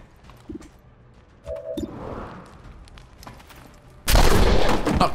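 A flank shot fired in the video game XCOM 2, landing as a sudden loud burst of gunfire near the end, preceded by quieter in-game ambience and small clicks.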